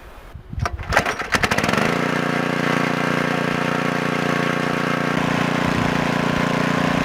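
A Porta Drill Mini's small engine sputters and catches, then roars steadily at full throttle, loud and close, with an even, unbroken drone that continues to the end.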